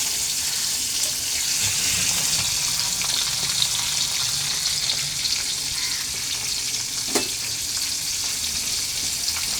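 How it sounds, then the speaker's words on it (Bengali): Tangra fish shallow-frying in oil, giving a dense, continuous hissing sizzle at close range that holds steady for the whole stretch, with one brief sharp crackle near the end. "খুব একটা ডিপ ফ্রাই করবো না, কেননা এইসব মাছ বেশি ভাজলে পরে খেতে অতটা টেস্ট লাগে না।"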